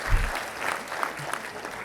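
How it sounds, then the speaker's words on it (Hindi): Audience applause at a formal function honoring a chief guest, a steady burst of clapping from a seated crowd that holds for about two seconds at moderate, room-filling level. "एक ताली बजा दें इस पे सर।"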